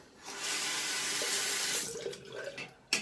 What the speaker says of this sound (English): But I'm going to rinse my ugly mug here, and I'll be right back with you.